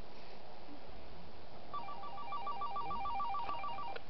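A telephone ringing at a paranormal investigation of the Bill Sketoe site, a faint repeating electronic ring tone that starts partway through and pulses steadily in a quiet, slightly noisy room.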